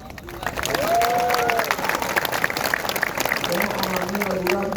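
A sermon audience at a Riau province anniversary event gives scattered, hesitant applause mixed with crowd murmur, while a preacher's voice keeps speaking over the clapping.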